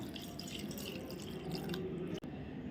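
Water pours steadily into a cooking pot to boil greens for a simple taakla leaf bhaji, a soft continuous rushing at low volume with no talking.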